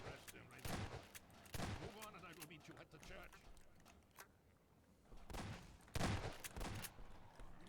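Shotgun blasts and other gunfire ring out in a Half-Life 2 firefight: several loud, sharp bangs arrive in irregular bursts, and a voice talks between them.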